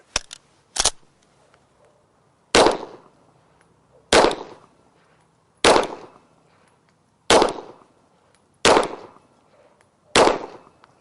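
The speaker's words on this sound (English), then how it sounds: "Once you've completed the 10 shots, we then make the firearm safe" Pistol shots ring out during firearm compliance training, eight sharp loud reports spaced about 1.5 seconds apart after two quick opening cracks, each with a short decaying echo and nothing but quiet between them.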